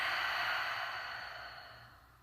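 A slow, steady exhale during a guided breathing practice. It is a soft, breathy rush of air heard alone, fading gradually over about two seconds.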